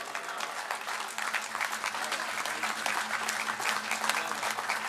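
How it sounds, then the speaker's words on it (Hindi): Sustained applause from a mushaira audience in Ludhiana welcoming the poet Khushbir Singh Shaad, steady dense clapping filling the hall at even loudness throughout, with no speech over it. "ज़ोरदार तालियों से उनका इस्तकबाल किया"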